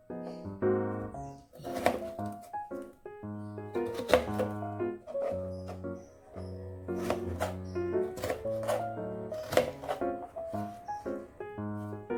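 A knife chops potatoes for sambal goreng kentang with a series of sharp, irregular cutting knocks, set against prominent tonal background music.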